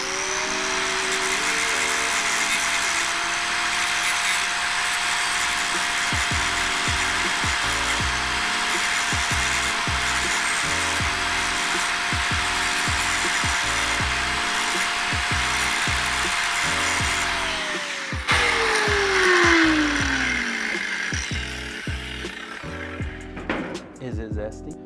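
A power grinder grinds out the cap of a 5G TIG weld on pipe, a continuous close, harsh whine that holds steady and then winds down in pitch near the end, with a voice faintly underneath.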